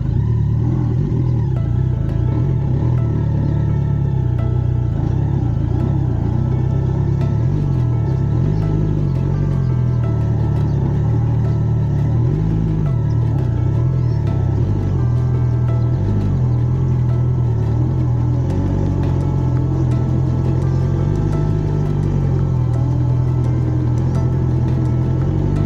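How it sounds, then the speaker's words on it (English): A motorcycle engine runs steadily on a muddy village road in Kenya, a continuous low rumble with some clatter and slight swells in revs, close and loud, with no talking. "Okay, the bike goes off again."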